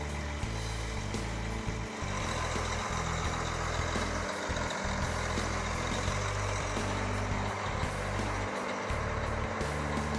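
A Case IH STX500 QuadTrac tractor with 30-inch tracks idles at a dealership, its diesel engine giving a loud, steady low rumble and hum with no break throughout.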